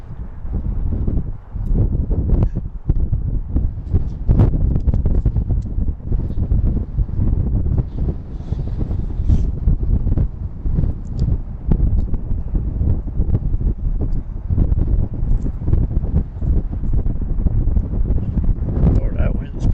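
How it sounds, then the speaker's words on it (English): Strong gusty wind buffets the microphone at an airport, a continuous loud rumbling roar with rustling bursts throughout, and someone talks briefly. "Oh, that wind's pretty strong right now."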